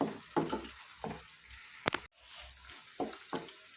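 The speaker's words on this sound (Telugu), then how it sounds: "లో టు మీడియం ఫ్లేమ్లో పెట్టుకొని దీన్ని బాగా ఫ్రై చేసుకోవాలి" Ground chili paste frying in a pan over a low to medium flame for a bitter gourd, tomato and onion chutney, a soft steady sizzle broken by stirring scrapes and a couple of sharp clicks, with no talk.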